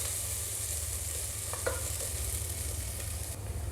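Softened sliced onions for a restaurant-style egg curry are stirred in a pan, giving a soft, continuous sizzle over a low hum, with a couple of brief spatula scrapes in the middle.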